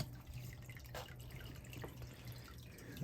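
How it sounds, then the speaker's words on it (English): Water drips and trickles quietly while being moved from the fresh water side to the saltwater mixing side of a reef tank setup, faint under steady background hiss. "It's moving water from the fresh to the saltwater mixing side."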